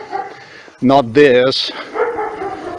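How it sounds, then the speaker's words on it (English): A big dog barks two or three times in a quick burst, deep and fairly loud and close, while someone talks before and after the barking. "And it sounds like this, like a big dog."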